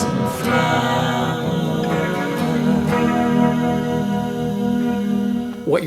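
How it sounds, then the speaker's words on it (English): A dense stack of thirteen multi-tracked sung harmonies, twelve layered backing voices under one lead vocal, holds sustained chords at steady, loud level for the full stretch, with no speech. "What you're hearing is 12 of me singing together, plus the lead vocal, for a total of 13 voices."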